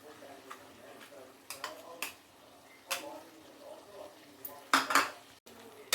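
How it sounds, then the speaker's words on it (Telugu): A spoon scrapes and clinks against a pan as coconut, ginger, garlic and onion gravy is stirred into mutton, with scattered sharp metallic taps and knocks between quieter stirring sounds. "గ్రేవీ వేసి మొత్తం కలిపాను"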